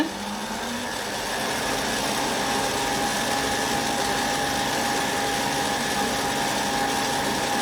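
Electric hand mixer beating cake batter for a rhubarb cake as oil is poured in and the speed is raised, a steady continuous motor whir running loud and close throughout with no talk.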